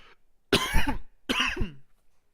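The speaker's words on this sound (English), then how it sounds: "That was my little drum roll of coughing." Two harsh, throaty coughs in quick succession, close and loud, separated by a short pause.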